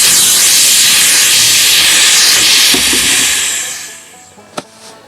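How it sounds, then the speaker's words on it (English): Loud, close air hiss from a jack on a 1959 International B120 4X4 Travelall as the supply valve closes and the truck lowers, a steady rush fading out over several seconds, ending with a sharp click. "Now we'll close the supply valve and bring it back down again."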